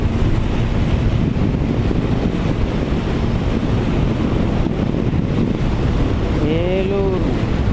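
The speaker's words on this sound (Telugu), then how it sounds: "గాలి విపరీతంగా తోలుతుంది." Strong wind roars without letup across the microphone, loud and continuous, with a brief tonal sound near the end.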